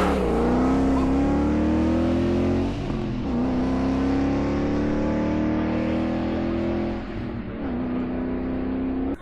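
A Lancia rally car at a Twente rally event roars steadily past, close and loud, its engine note holding high revs with a couple of brief dips as it shifts or lifts, with no talking over it.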